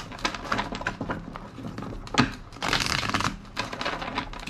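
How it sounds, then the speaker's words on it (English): A tarot card deck shuffled by hand, giving dense papery riffling and crackling bursts across the whole stretch with a few sharper snaps, close and fairly quiet, with no talking. "Two more shuffles."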